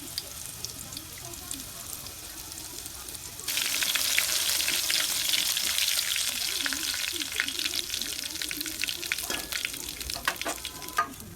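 Garlic-ginger paste sizzles in hot oil for a vajadi (tripe) mutton curry, a steady broadband frying hiss that jumps louder a few seconds in and stays close, with light stirring scrapes and no talk.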